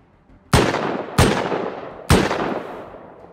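Three loud, sharp gunshots from a weapon in the survival game Rust ring out close by about half a second apart, each with a decaying echo tail and no talk.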